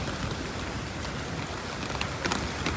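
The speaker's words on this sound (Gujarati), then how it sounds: "અટાણે તો વરસાદ બાકા જીકી બોલાવે વરસાદ ફૂલ બાકા જીકી બોલાવે" Heavy rain pours down in a steady, unbroken hiss, with a few louder spatters near the end and no voices.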